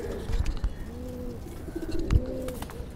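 Teddy pigeons coo in a loft, soft low rolling calls repeating a few times at close range, with faint rustles and background noise but no talk.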